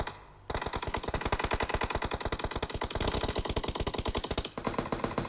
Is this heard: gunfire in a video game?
yes